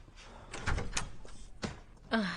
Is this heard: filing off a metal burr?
no